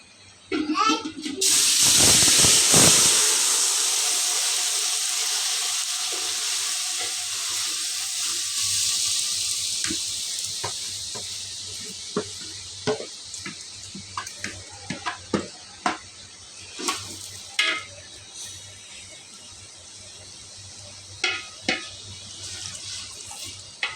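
Raw chicken for a rice-free biryani hits a hot pan and frying begins: a loud, sudden sizzle bursts out, then settles into a steady fading hiss with scattered crackles and a few utensil clinks.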